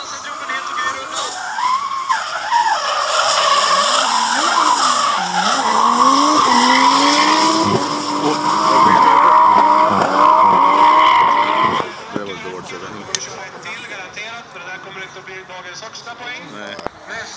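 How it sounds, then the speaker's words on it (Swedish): A drift car with a stroked B18 engine skids around a racetrack, its high-revving engine note rising and falling over loud tire squeal for most of the run, then easing off near the end, with commentators talking over it. "Nu låter det som en strucken B18."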